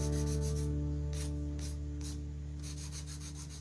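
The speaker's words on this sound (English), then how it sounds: "so I'm gonna do a little bit of hand filing" Someone hand-files a gel nail during a cotton candy ombre manicure. A soft, rhythmic back-and-forth rasping repeats over a steady low hum.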